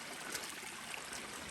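Floodwater from a creek still running across a path after overnight rain, a steady close rush and trickle of water with no voices.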